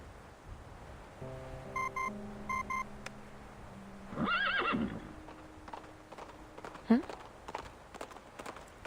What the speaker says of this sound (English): Communicator's noise startles the nibbling horse. It lifts its head and bolts into the distance.